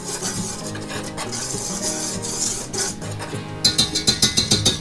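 Dry ingredients for Irish soda bread (flour, baking powder, baking soda and salt) stirred in a bowl, a steady scraping swish with utensil clinks, ending in a run of sharper rhythmic taps against the bowl.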